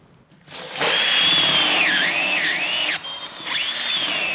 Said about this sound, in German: Das große Bohren kann beginnen. 45 Löcher, 14 cm tief.